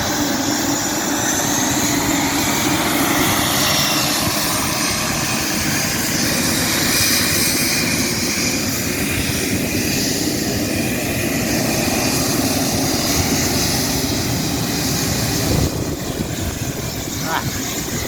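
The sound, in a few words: aircraft taking off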